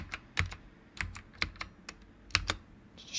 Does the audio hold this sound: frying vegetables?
no